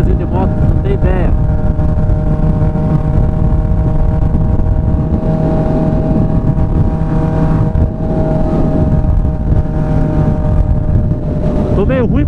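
Honda CB 1000R motorcycle exhaust rumbling steadily and loud throughout, a continuous engine drone with a brief rev swell near the start and end, wind noise over the microphone during a ride.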